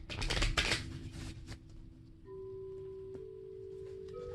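Tarot cards, here an Ancestors and Angels deck, are shuffled in a quick riffling burst for about two seconds, followed by a faint sustained electronic tone in a quiet room.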